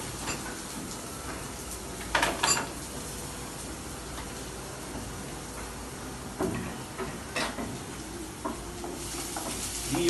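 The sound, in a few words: chopped onion and garlic sizzling in a frying pan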